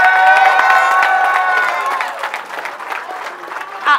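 Audience at a rap battle cheering and clapping, a crowd roar with shouts loud at first and then thinning into scattered claps and noise.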